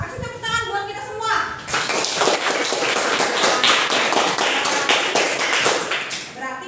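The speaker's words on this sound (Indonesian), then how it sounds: "kasih tepuk tangan buat kita semua." Indonesian primary-school students applaud together in a classroom, steady dense clapping after a brief spoken moment at the start, sustained and fairly loud to the end.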